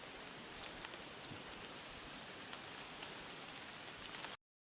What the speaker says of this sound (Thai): เห็นบ่ฝนตกก็ตกตลอดเลย